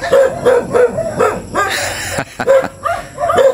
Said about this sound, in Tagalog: Dumami na yung aso.